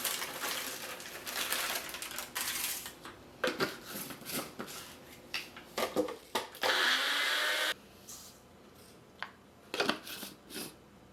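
A food processor grinds dried potato into powder, loud whirring in bursts with rattling of particles, stopping and restarting several times, and one steadier stretch of high grinding near the middle.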